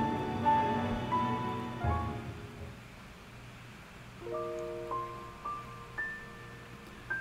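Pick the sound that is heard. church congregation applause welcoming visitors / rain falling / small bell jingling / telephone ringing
rain falling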